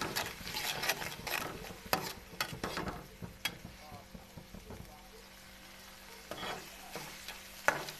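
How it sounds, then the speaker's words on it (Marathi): Turmeric, red chili powder and salt stirred into tomatoes in a pan, giving soft repeated scraping and stirring strokes over a steady low sizzle, with a few sharper clinks of the spoon against the pan. "हळदी लाल तिखट आणि नमक टाकून घेतलेले आपण आता हलवून घेते"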